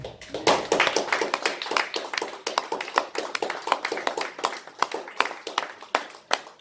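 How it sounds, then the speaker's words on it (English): Close, distinct hand claps from a small audience at a spoken word night in a gallery. The claps are irregular and crisp and carry on steadily for several seconds. "applause and then a break"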